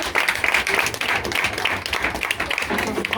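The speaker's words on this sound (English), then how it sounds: "A round of applause for" An audience at a talk show launch event claps for a girl called forward, a loud, steady patter of many hands with a murmur of voices underneath.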